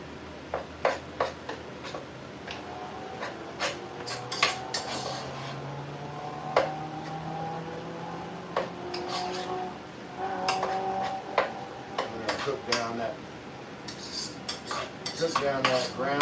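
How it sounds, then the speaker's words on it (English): Metal spoon scraping and clinking around a pot of chili with ground pork, chili powder and spices, in a steady run of stirring taps and clatter, close and moderately loud, with no voices over it. "Give that a stir."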